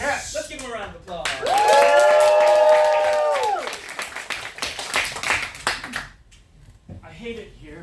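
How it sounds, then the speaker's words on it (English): Audience applause and cheering for improv performers in a theater, rising quickly into loud clapping with whoops, a bright sustained tone over it, then fading as voices return near the end. "Let's give them a round of applause."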